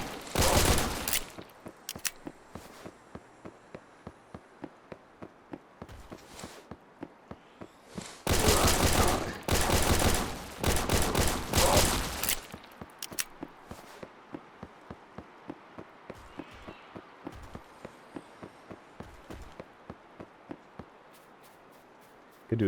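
Thompson .45 submachine gun in the game Those Who Remain, firing in several loud automatic bursts between stretches of steady, evenly spaced footsteps.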